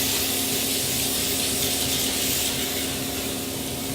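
Steady hiss of a cooking-oil spray misting layered phyllo pastry sheets for spanakopita, continuous and close for the whole stretch with no talk.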